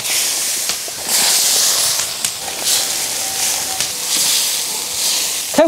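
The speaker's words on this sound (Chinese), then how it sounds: "倒入色拉油，葱姜蒜炸香" Scallions, ginger and garlic fry in hot salad oil for a spicy red-oil soft-shell turtle dish, a loud, continuous close-up sizzle with crackling bursts and a sharp clatter at the end.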